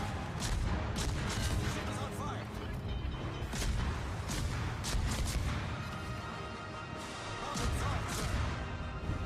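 A French destroyer's main battery fires HE shells at another destroyer in World of Warships, with repeated heavy cannon blasts and crashes in close succession over a constant roar of battle noise.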